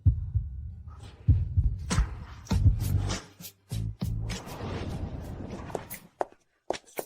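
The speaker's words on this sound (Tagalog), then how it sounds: "Bakit parang ang bilis ng tibok ng puso ko?" A rapid, pounding heartbeat thumps loudly in repeated low beats, with brief pauses and a few sharper clicks between them.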